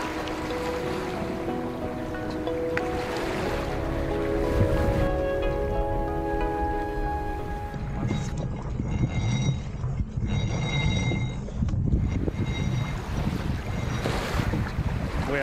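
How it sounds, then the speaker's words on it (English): A sailboat glides along in winter wind toward a narrow tidal pass, with a steady low wash of water and wind under faint creaks and tonal hums, moderately quiet and continuous with no talk. "We are just kind of lazily sailing along towards Dodds Narrows."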